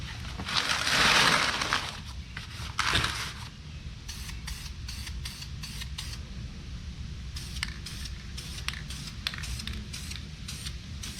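An aerosol can sprays another coat of paint onto a brake caliper from a Suzuki Kizashi, a loud hissing burst near the start, then a shorter one, followed by a series of quick light clicking taps.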